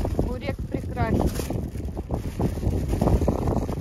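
Cold wind buffets the microphone by the sea in Montenegro, gusting in uneven bursts while people talk over it.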